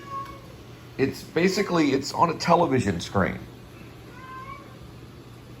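An upset cat gives a cluster of loud, drawn-out meows close by, over a faint steady hum, with quiet stretches before and after.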